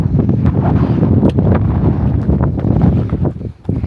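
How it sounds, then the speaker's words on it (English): Strong gusty wind buffets the microphone on an outback day trip near Broken Hill and Silverton, a loud continuous low roar with rustling surges that dips briefly near the end. "Still windy."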